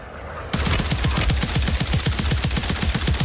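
Rapid automatic gunfire in the video game Warzone, a steady burst of close, loud shots fired in quick rhythmic succession that starts abruptly and continues throughout.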